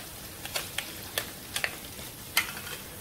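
Whole spices and ginger garlic paste frying in oil, a quiet hiss with a few sharp pops and crackles spread irregularly across the moment, with no talk.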